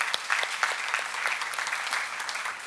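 An audience at a church seminar on a Korean sermon series claps together: dense, steady applause that fills the whole stretch evenly, with no voice over it.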